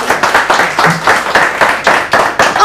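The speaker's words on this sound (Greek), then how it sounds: "Δώστε ένα χειροκρότημα για τη Βάσια." Studio audience applause for a woman named Vasia on a Greek television show, loud and close, with fairly rhythmic pulsing clapping and no voices over it.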